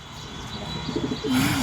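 Pigeons kept in a home loft coo close by, with soft low calls rising and falling over a steady background hum.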